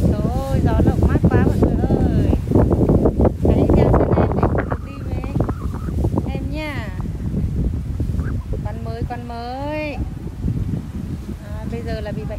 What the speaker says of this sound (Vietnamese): Trời ơi, gió lộng.